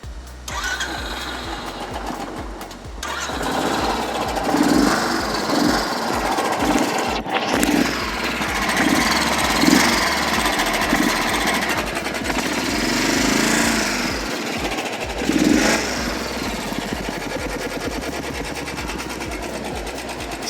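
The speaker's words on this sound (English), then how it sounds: "now let me turn on the engine and show you the exhaust sound." A Royal Enfield Thunderbird 350X single-cylinder motorcycle, at 5000 km, is started and then idles with a steady, loud thumping exhaust and mechanical tappet clatter that run continuously throughout.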